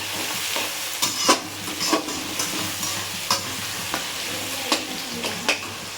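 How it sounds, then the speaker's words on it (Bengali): Chopped onions with black cumin frying in a pan, a steady soft sizzle broken by scattered scraping clicks as a spoon stirs, close and fairly quiet. "চলুন পেঁয়াজটা সুন্দর করে লাল লাল করে ভাজা হোক"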